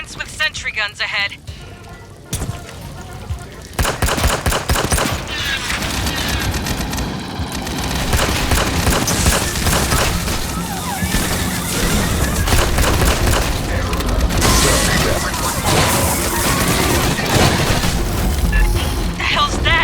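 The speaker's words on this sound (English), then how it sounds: "Synths with sentry guns ahead." Sentry guns firing in Aliens: Fireteam Elite, heavy continuous automatic gunfire with booms and mechanical clatter filling the whole stretch, loud and dense, with game voices talking over it.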